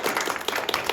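Students at a school club reading-debate final applaud in a brief burst of close, fairly loud clapping from a small crowd.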